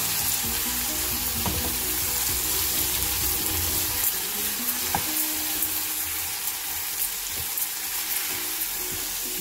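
A brinjal and tomato curry cooks in a pan with a steady, dense sizzle and occasional stirring taps throughout.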